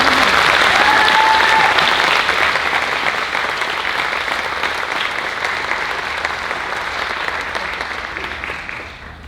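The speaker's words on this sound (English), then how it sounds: "How about one more round of applause for our senior class?" An audience at a high school band showcase concert applauds the senior class with strong, continuous clapping. The sound starts loud and gradually tapers over about nine seconds, with a few brief whistles near the start.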